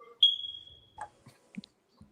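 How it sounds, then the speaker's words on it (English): A small electronic alarm gives one sharp, high beep that rings out steadily for about half a second, followed by a few faint scattered clicks and soft thumps in an otherwise quiet room. "You don't like the little alarm going off."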